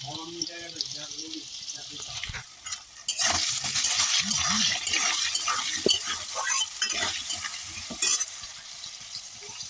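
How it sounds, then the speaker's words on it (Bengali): Onion and tomato frying in oil with cumin, a steady close sizzle with occasional stirring clatter; a voice speaks over the start before the frying grows louder and continuous. "তেলের মধ্যে জিরে দিয়ে দিয়েছিলাম, দিয়ে পেঁয়াজ আর টমেটোটা ভাজা করে নিয়েছি"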